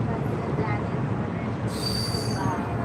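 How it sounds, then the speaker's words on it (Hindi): Train pulling into Muzaffarpur railway station in India, a steady loud rumble of wheels on track with a high metallic squeal rising near the end, no voices. "मुजफ्फरपुर में हमारे जो ट्रेन है वो पहुंच चुके हैं अपने निर्धारित समय पे"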